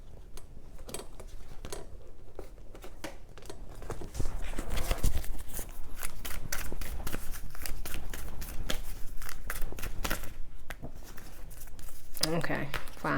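Tarot cards being shuffled by hand, a continuous papery flutter of rapid flicks and slaps close to the microphone, growing busier midway, with a voice in places.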